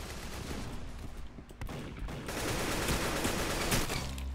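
Gunfire in the Roblox shooter Arsenal, loud and close, a dense run of shots that swells into a sustained barrage toward the end.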